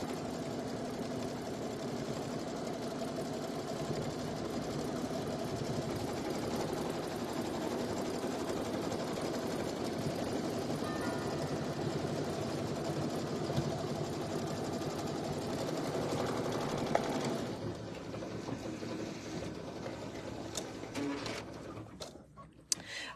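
An embroidery machine runs steadily, stitching an outer tack-down line around a design, its needle buzzing in a continuous even hum before slowing and stopping near the end.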